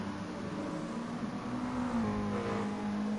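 Mazda MX-5 Cup race cars in GT Sport at Tsukuba, a pack of engines droning steadily together with a rising, shifting tone, fairly loud and continuous with no talk.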